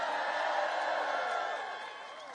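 A cathedral audience in Ireland bursts into sustained clapping and cheering at a presidential speech, a dense, steady wash of applause that eases slightly toward the end.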